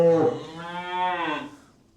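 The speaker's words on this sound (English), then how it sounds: "Bit of blarting going on in the yard now." Cattle low from a farmyard shed where a few weaned cows, a bull and a heifer are penned, giving one long drawn-out moo that swells and fades, close and clear with no talk over it.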